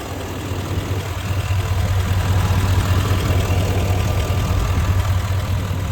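Steady idle of a 2018 GMC Sierra 3500 truck engine, heard up close as an even, rumbling drone with a strong low tone that stays constant throughout.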